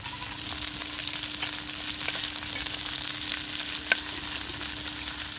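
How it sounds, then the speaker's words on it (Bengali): Pieces of rohu fish fry in hot oil, giving a dense, even sizzle that carries on close and unbroken, with a faint steady hum beneath and no voices. "রুই মাছগুলো লাল লাল করে ভেজে নিয়েছি এখন আমি তুলে নিচ্ছি"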